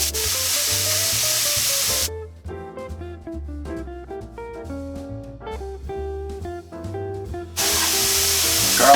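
Onions fry loudly in a pan, with a dense close sizzle for the first two seconds. Music then takes over until the sizzle returns near the end.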